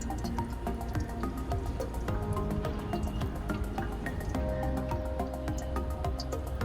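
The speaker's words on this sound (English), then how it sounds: "You can see the water still falling." Water drips repeatedly from a linden tree's plant pot after repotting, in quick, irregular drops, a steady patter of small plinks and trickles close by, with no voices.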